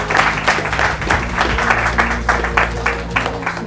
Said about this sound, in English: Let's give them a hand clap one more time.